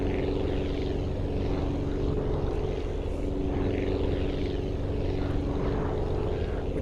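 A propeller-driven plane with a Japanese World War II look cruises in the flight-building game Aviassembly, its engine giving a steady, continuous drone and rush at even loudness throughout, with no talking.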